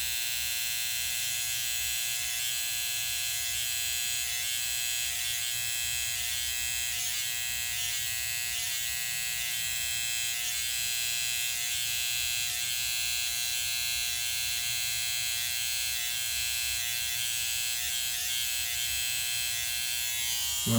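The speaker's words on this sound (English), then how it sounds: "Right along the lip line. Turn your head slightly at an angle and just place the clipper down." Electric beard clipper buzzes continuously and close up while trimming along the lip line, a steady high-pitched motor drone with slight fluctuations as it moves over the hair, no voices.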